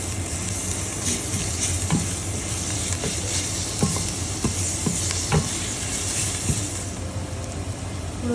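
Garlic added to fried onions in a pan, a steady close sizzle with a few light scraping stirs of a spatula spaced through it.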